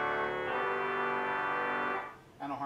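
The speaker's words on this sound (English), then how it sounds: "MP Moeller 1940s harmonic trumpet with its full length extension." A 1940s M.P. Moeller pipe organ in a private residence sounds its harmonic trumpet stop, with full-length extension, in a bright, reedy held note for about two seconds, then a softer second tone begins right after.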